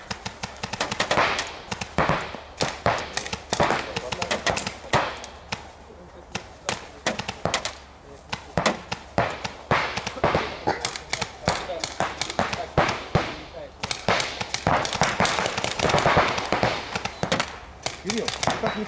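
Rapid bursts of paintball marker shots ring out during sport paintball training on a field. The sharp pops come in fast volleys and are loud and near, with people talking between them.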